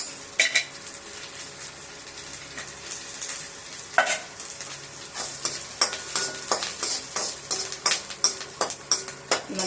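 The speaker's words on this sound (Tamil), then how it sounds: "பூண்டில் நெய் விட்டு வதக்கணும்" Garlic sautéing in ghee in a pan, a soft steady sizzle broken by repeated clinks and scrapes of a metal spoon stirring, close up.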